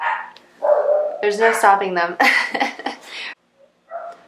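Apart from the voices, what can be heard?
dogs barking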